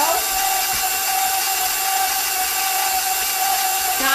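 An electric mixer whips cookie dough frosting in a bowl, a steady, loud motor whine running continuously without a break.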